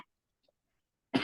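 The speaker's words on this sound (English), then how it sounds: "coughing his lungs out" A man gives a single sharp, loud cough after near silence, close to the listener and short.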